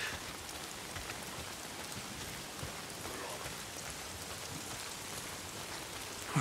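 Steady rain in the video game Days Gone hisses and patters continuously at an even level, a dense wash of droplets with no voices or other distinct sounds.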